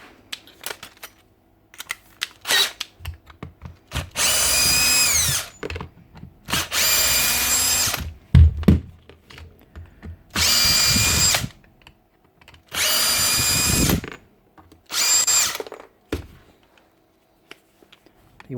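A Dewalt DCF899 cordless impact wrench whose anvil will not turn runs its motor in five loud, buzzing bursts of about a second each, separated by short pauses with clicks and handling noises.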